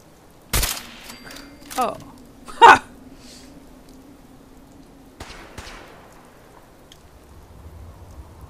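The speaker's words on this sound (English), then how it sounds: "Who's shooting?" Gunfire in Fallout 4 comes as a few isolated sharp cracks, somewhat distant and irregularly spaced over a quiet low hum, and a voice gives a short exclamation.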